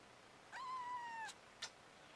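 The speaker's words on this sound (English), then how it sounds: "Are you purring?" A cat gives one drawn-out, rising-then-falling meow at close range, followed by a brief, sharper chirp-like call in an otherwise quiet room.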